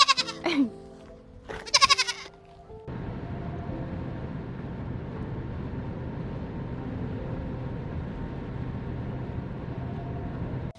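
Two short bleats from goats on a homestead farm ring out close by, then a steady low rumble of background noise takes over for the rest.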